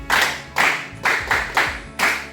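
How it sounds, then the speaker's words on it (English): Audience members at a lecture on drug abuse clap for a young speaker in five distinct, loud, evenly spaced bursts of close hand claps, each fading quickly. "Clap for her."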